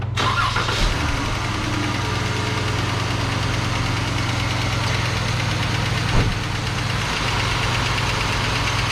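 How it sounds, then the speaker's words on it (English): Jeep 3.6L Pentastar V6 with a bad rolling rocker, cranking to life with a brief burst and then idling steadily and loudly up close, a faint rapid ticking running under the drone. "I'm going to start it up real quick and let you guys listen to what's going on if your Jeep vehicle's tapping"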